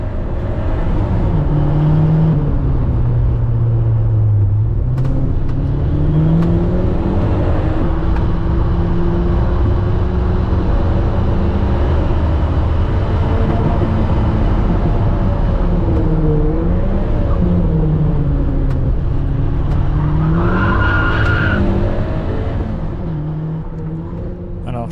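A car in a sprint race at Abingdon held at full throttle, its engine droning loud and steady throughout with rising and falling pitch through the gears, recorded close from on board.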